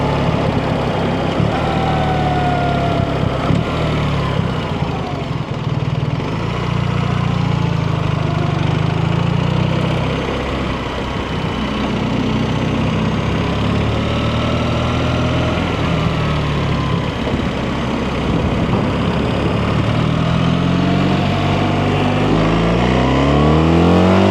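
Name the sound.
BMW R1300RT motorcycle engine changing gear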